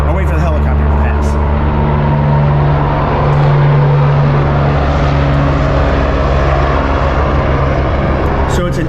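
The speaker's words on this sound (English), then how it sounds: "I'll wait for the helicopter to pass." A loud, continuous aircraft rumble with a rotor-like drone fills the clip, swelling slightly midway as it passes close by.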